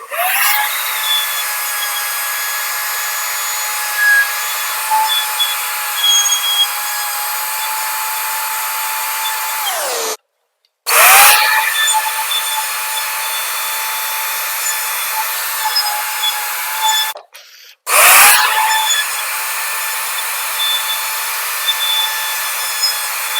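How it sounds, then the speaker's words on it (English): A router cuts hinge recesses into a wooden interior door with a loud, high, steady whine, stopping twice for brief gaps and spinning back up each time. "And I'll just get the router and cut this out."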